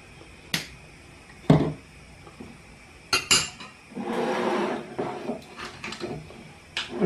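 A spoon clatters and clinks against dishes while cooking beef tongue, giving scattered sharp metallic taps and a longer scraping rattle in the middle, close and fairly loud, with no one talking.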